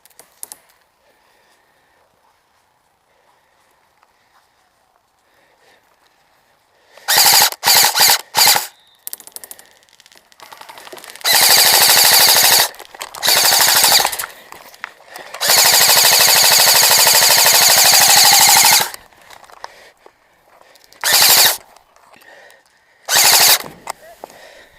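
Airsoft guns firing during an outdoor village skirmish game: loud, close bursts of rapid automatic shots come in several stretches of varying length after a quiet start, with short single volleys between them.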